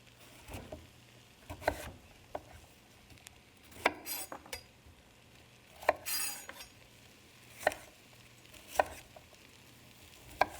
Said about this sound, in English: just chop them up and put them in the pot